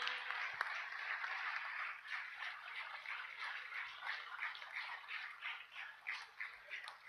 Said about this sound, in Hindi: जोरदार तालियों की स्वागत